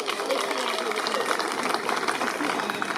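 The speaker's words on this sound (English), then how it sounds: "thank you, a round of applause, they did good" A crowd applauds at the Taronga Zoo bird show, a continuous patter of many hands clapping at moderate distance while a presenter keeps talking over it.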